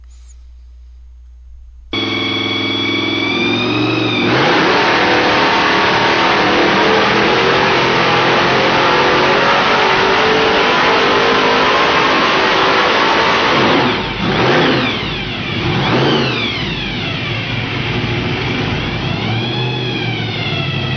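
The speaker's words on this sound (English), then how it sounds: "This video is of a small block Ford engine with a roots blower mounted on top of it." A small block Ford V8 topped with a roots supercharger revs loudly and close up, holding a steady high roar before dipping and climbing through several sweeping rev changes near the end.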